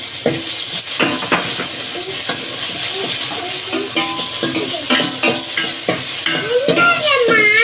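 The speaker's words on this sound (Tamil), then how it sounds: "இப்போ வெங்காயம் நல்லா வதங்கிடுச்சு இது கூட ரெண்டு தக்காளி கட் பண்ணி வச்சுருக்கேன் அதை சேர்த்துக்கிறேன்" Chopped tomatoes are added to onions sautéing in a pan for a mushroom gravy, giving loud, steady sizzling broken by repeated scraping and stirring clatter. Faint tonal sounds rise in the background near the end.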